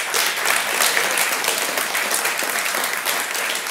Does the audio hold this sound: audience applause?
yes